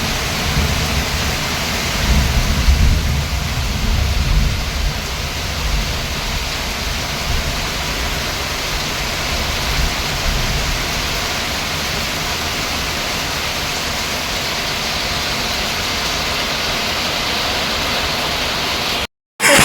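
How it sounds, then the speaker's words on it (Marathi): Steady early-morning rain pours down continuously, a dense hiss with a heavier low rumble early on, ending abruptly. "पाऊस पडतो सकाळी चार वाजले थोडा पाऊस पडतो बघा"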